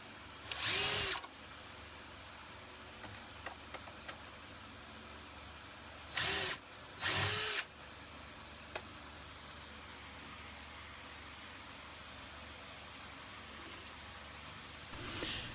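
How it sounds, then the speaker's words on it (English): An impact driver sets screws into cabinet hinges on a mobile lathe/benchtop-tool cabinet, three short loud bursts of buzzing, hammering rotation separated by quiet pauses in a workshop. "You want to be very, very careful if you're using something like this impact driver"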